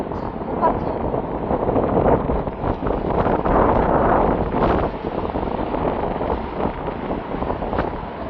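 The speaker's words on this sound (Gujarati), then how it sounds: "વરસાદ તો ઓછો પડી ગયો છે પણ પવન ફૂલ આવે છે" Strong gusting wind after rain outdoors near Gomti, a steady broadband rush buffeting the microphone throughout, with a voice speaking over it.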